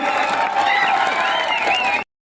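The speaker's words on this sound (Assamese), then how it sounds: "এতিয়া এটা হাত চাপৰি বজাওক ইমান সুন্দৰ গগনা বজোৱাৰ বাবে" Crowd at a live stage program in Tezpur claps and cheers in a dense, steady burst of applause lasting about two seconds, then cuts off abruptly.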